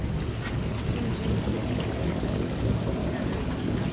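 Twin engines of a Carver 355 motor yacht idle in a steady, even low rumble with some wash of water alongside, loud and close with no speech over them.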